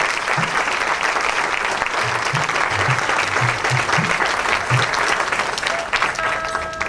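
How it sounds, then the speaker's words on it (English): A temple audience applauds Swamiji at a Hindu temple opening celebration, dense steady clapping from many hands, loud and sustained, with a few low voices mixed in. "Please give a round of applause to Swamiji."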